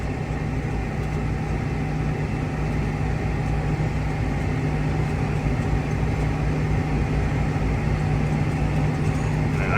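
A vehicle travels down Route 12 on a long rural ride. The engine and road noise make a continuous, loud, unchanging drone with a low hum throughout.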